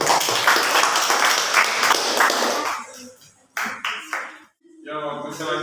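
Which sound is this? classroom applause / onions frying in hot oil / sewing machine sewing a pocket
classroom applause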